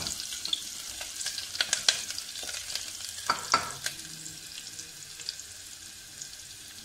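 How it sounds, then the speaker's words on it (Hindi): Chana dal filling being stirred in a pan for stuffed paratha, with a soft steady sizzle and scattered scraping clicks of the spoon against the pan, heard close and alone. "धीरे धीरे इसको चलाती रहूंगी"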